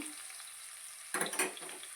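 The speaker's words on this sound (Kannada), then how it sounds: "ಈರುಳ್ಳಿ ಎಲ್ಲ ಸ್ವಲ್ಪ ಎಲ್ಲ ಕಲರ್ ಬರೋವರೆಗೂ ಕೂಡ ಚೆನ್ನಾಗಿ ಫ್ರೈ ಮಾಡ್ಕೋಬೇಕು" Onions frying in a pan give a soft, steady sizzle. Midway a burst of louder crackling and stirring comes in and then settles back to a quieter fry.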